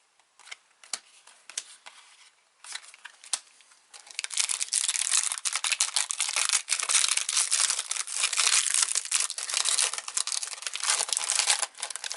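Pokemon Sun & Moon Ultra Prism booster pack wrapper torn open by hand, a few sparse crinkles at first, then a long run of dense, loud crackling and rustling foil close to the microphone.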